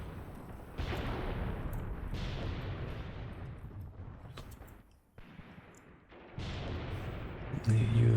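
Artillery guns fire in a Graviteam Tactics battle, heavy booming blasts rolling over one another, with a brief lull mid-way before the barrage picks up loud again; a voice talks underneath.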